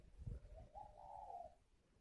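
Hand-raised magpie chicks calling: a faint, soft wavering call rises and holds for under a second amid low background rumble and a brief thump.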